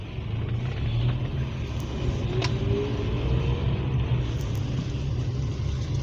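A manual stick-shift car engine held in second gear with the accelerator pressed, producing a steady, close low rumble that stays even throughout with no clear rise in revs.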